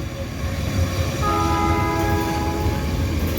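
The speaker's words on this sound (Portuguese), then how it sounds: "Inclusive porque tá com duas locomotivas, né? Lá na frente, o bicho tá grande hoje." A long, heavy freight train hauled by two locomotives rumbles past up close on a rainy morning, with a steady loud roll of wagons and a sustained horn-like tone joining partway through.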